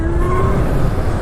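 A Zero SR electric motorcycle picking up speed on a test ride, with a steady rising whine from the motor over loud, constant wind and road rush, close and continuous.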